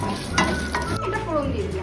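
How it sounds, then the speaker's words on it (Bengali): Whole cumin seeds sizzle and crackle in hot oil in a pan while cooking a Bengali curry, a steady close frying hiss with a few brighter spits, no talking. "গোটা জিরে দিয়ে দিলাম।"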